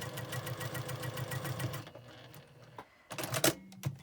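A sewing machine stitching a quilt block seam on a four-patch block runs in a fast, even mechanical chatter for about two seconds, stops, then a few short bursts and clicks follow.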